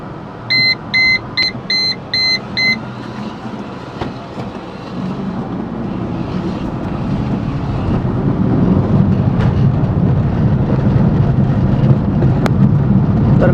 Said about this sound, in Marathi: सुरुवातीला आपण जरा कोल्ड स्टार्ट देतो गाडीला गाडी आता रिवर्समध्ये घेऊ